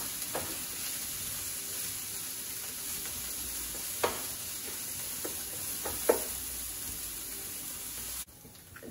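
Chopped onions frying in a skillet for shepherd's pie, a steady moderate sizzle with a few sharp spatula clicks and taps, ending abruptly near the close.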